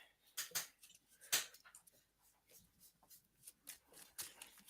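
A Magic: The Gathering deck being shuffled by hand, quiet close-up riffling bursts and card rubs coming irregularly, with faint background noise.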